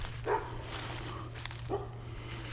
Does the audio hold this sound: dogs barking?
yes